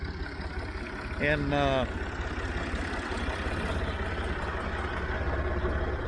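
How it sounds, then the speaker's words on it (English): A low, steady Massey Ferguson 50 diesel tractor engine idles continuously in the background with a bush hog mower attached, with a brief spoken word over it. "I just got the Massey idling there a little bit with the bush hog"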